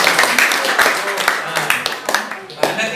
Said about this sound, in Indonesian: Tepuk tangan untuk si Yos.